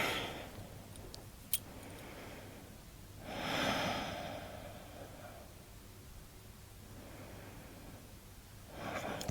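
Slow, deep breaths during a guided relaxation exercise come as soft, airy swells of inhaling and exhaling, faint against a steady background hiss, with long gaps between breaths.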